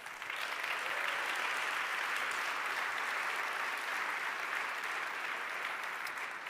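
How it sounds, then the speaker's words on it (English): Steady, dense applause from a large crowd at an award ceremony and evening reception, an even roar of clapping sustained for several seconds at moderate distance. "deserve another big round of applause for today"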